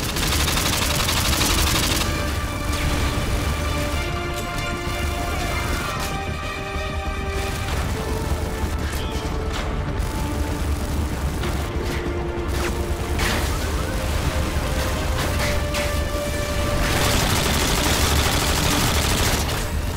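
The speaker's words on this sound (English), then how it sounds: "why'd they have to give me the slowest reloading fucking bitch-ass machine gun ever?" Bursts of machine gun fire and explosions in Modern Warfare 2 multiplayer, dense rapid volleys with crashes and booms filling most of the stretch, loud and continuous with brief lulls.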